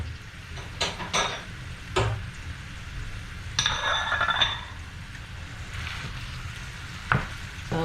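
Ground beef browning in a pan for taco meat, with a low steady sizzle under clinks and scrapes of a spoon stirring against the pan, plus a brief burst of louder frying hiss partway through.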